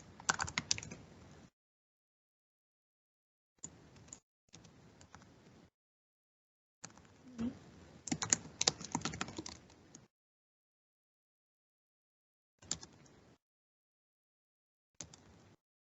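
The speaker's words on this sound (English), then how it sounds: "I can't type and talk at the same time" Bursts of typing on a computer keyboard while writing code, close and clear, coming in short clusters of rapid key clicks separated by silent pauses.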